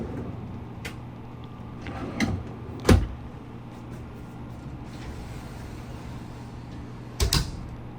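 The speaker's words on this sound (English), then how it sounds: "And there's some nice drawers right here." Drawers in an RV camper, a 2025 Superlite 26FKBS fifth wheel, slide and shut with a few sharp, close clunks and knocks spread out over a quiet background hum.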